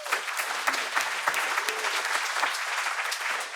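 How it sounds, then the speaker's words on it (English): An audience gives a round of applause as guest Timothy Cho, originally from North Korea, is welcomed to the front at a talk. The clapping is steady and fairly full, with occasional sharper claps standing out. "Give him a round of applause."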